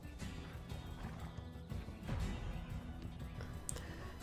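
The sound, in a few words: horse in video game Black Desert Online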